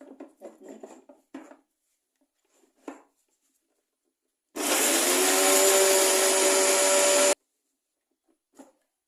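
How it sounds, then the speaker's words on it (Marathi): A kitchen mixer grinder whirs steadily for about three seconds as it grinds a chutney of ridge gourd peel with a little coconut and roasted garlic, loud and close, between quiet clinks and taps of preparation. "तर मी मिक्सरला लावून घेणार आहे"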